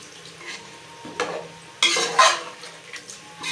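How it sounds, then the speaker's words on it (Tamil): Chicken curry is stirred in a pot with a spoon, giving a few close scraping and sloshing strokes with clinks, the loudest near the middle, and no voices. "இதை நல்லா மிக்ஸ் பண்ணிக்கலாம்."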